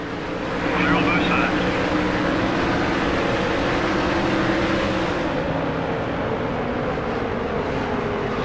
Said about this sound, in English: Green flag, we are racing here at Darlington.